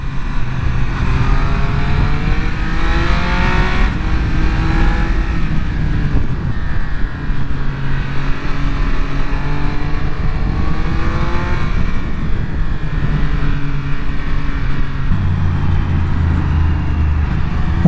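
A 2023 Triumph Speed Triple 1200RS motorcycle is ridden along a clean open road, its engine a loud, steady roar with rising and falling pitch sweeps as it accelerates and shifts, continuous throughout with wind noise.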